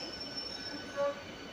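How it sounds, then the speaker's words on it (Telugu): A MEMU passenger train running on the line between Karimnagar and Sripur town, heard as a steady rumbling wash of rail and wheel noise with a brief high squeal, moderately loud throughout. "ఇప్పుడైతే వచ్చేసింది ఒక ట్రైన్"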